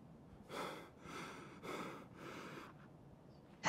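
A video game soldier in Escape from Tarkov breathes heavily while aiming down sights, four drawn-out breaths in a slow even rhythm, fairly close and soft, with no talking.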